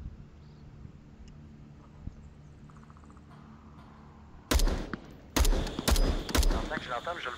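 Video game gunfire, several loud sharp bursts of shots breaking in after a quiet stretch, spaced irregularly over the last few seconds, with faint background game ambience before.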